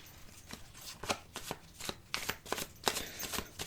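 Tarot cards are shuffled in a quiet, close, rhythmic patter of soft taps and riffles, with no talking.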